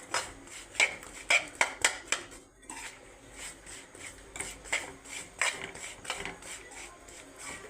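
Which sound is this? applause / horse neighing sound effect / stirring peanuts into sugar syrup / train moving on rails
stirring peanuts into sugar syrup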